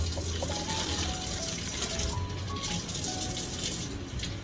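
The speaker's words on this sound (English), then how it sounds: "I see my kraut trying to get hot there and boil." Sauerkraut heating in a pot on the stove approaches a boil, giving a close, continuous watery rush and bubbling hiss at a fairly even level throughout.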